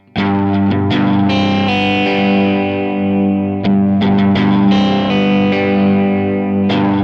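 A distorted electric guitar rings out with reverb, playing sustained notes and chords with a few sharp re-attacks, loud and continuous throughout.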